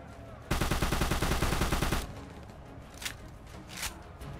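Gunfire in the video game Secret Service: a rapid automatic burst of loud shots for about a second and a half, then two sharp single cracks over a low game ambience.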